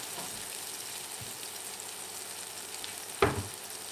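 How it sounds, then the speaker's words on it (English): Onions caramelize in a pan with a steady soft sizzle, a quiet constant frying hiss broken by one brief stir or clink near the end. "So I will continue caramelizing my onions"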